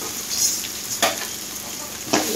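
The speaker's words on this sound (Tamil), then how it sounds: "எல்லாத்தையும் சேர்த்து நல்லா எண்ணெயிலே சின்ன வச்சு வதக்கணும்." Chopped vegetables with ginger sauté in oil in a pan for vegetable lemon rice, a steady close sizzle with two sharp stirring scrapes and no talk.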